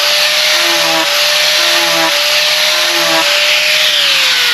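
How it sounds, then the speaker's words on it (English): Small high-speed grinder shaping boat foam, a loud, steady high-pitched whine with a scratchy abrasive hiss running continuously, pitch dipping slightly at regular intervals as the tool bites into the material. "if you were to use like a little high-speed grinder like this"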